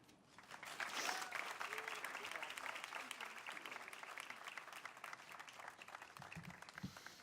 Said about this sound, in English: let's give Ayla Smith another wonderful round of applause